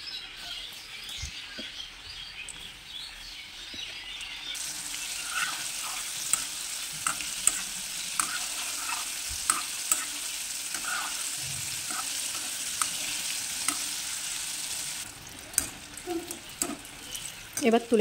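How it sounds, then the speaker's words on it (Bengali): Chicken pieces fry in hot oil, giving a steady, fairly loud hiss that runs for most of the stretch, with scattered pops and crackles before it cuts off and a few clanks follow. "এবার আমি চিকেনগুলোকে ভেজে নেব"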